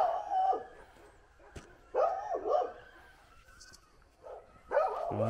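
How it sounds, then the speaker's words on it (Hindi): Himachali dogs bark on a snowy winter day in Spiti, several separate barks and yips in short bursts at moderate distance, with quiet gaps between them. "और ये हमारे हिमाचली कुत्ते,"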